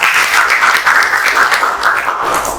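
A classroom group of vocational students applauds during a street-lighting installation lesson, a brief burst of steady, close clapping that fills the whole moment and tapers slightly at the end.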